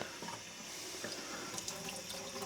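Water runs and drips off a seasoned cast iron skillet held upside down over a sink, a close, continuous splashing trickle.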